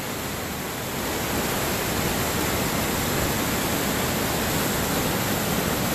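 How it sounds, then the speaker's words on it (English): Flash flood water pouring off an edge into waterfalls near Glen Canyon Dam, a dense, loud, continuous rushing roar with no pauses and no voices. "reporting live at the top of the flash floods that lead to the waterfalls that you can see from the bridge right in front of the Glen Canyon Dam"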